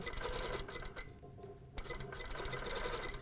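A sewing machine stitches a toile seam in steady bursts, with a brief pause in the middle before the motor picks up again, close and fairly loud.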